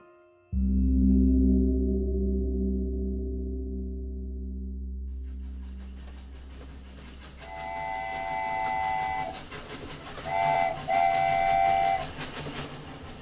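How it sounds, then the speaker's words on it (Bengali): A train rumbles along in a steady, loud chugging roar, then fades and grows noisier as a shrill whistle sounds in several blasts, one long and a few short, with no voices. "ঝিকঝিক করতে করতে ট্রেনটা যখন লাইনের বাঁকে মিলিয়ে গেল"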